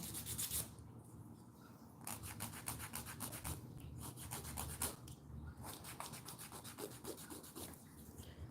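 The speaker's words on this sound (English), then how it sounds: "So I'm filing my nails a little bit here" Fingernails filed with a nail file, a soft, close scratchy rasping in repeated back-and-forth strokes with short pauses between bursts, fairly quiet and alone.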